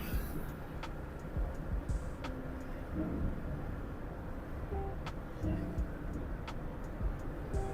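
Steady road traffic rumble with passing lorries heard from a moving vehicle on a highway through fields, a continuous low drone with occasional louder swells and faint distant horns.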